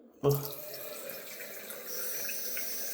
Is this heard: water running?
yes